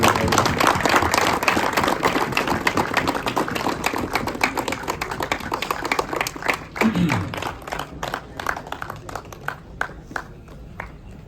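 Audience applause at a Gujarati film premiere night, welcoming a guest down to the stage: dense, sustained clapping from a large crowd that gradually thins into scattered individual claps.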